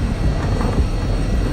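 An airplane flies toward a road in a film scene, its engine a steady, loud drone with a broad rumble that holds for the whole short stretch without a break.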